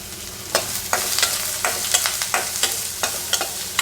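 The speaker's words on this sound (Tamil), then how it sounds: "கட் பண்ணி எடுத்து வச்சுட்டுருக்க வெங்காயத்தையும் அதில் சேர்த்து நல்லா வதக்கி விட்டுக்கலாம்." Onions sautéed with curry leaves in a pan for raw banana curry, a loud close sizzle punctuated by regular rhythmic scraping strokes of a spoon stirring, with no talking.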